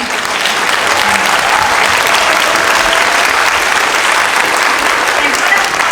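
A concert audience at an orchestra performance claps steadily for a young violinist, dense sustained applause from a crowd with a voice faintly heard within it.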